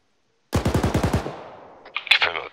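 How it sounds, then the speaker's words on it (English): Machine gun fire in the Arma 3 video game: a quick burst of about eight loud, evenly spaced shots, then a decaying echo and a few sharper distant cracks. "Oh, they're firing."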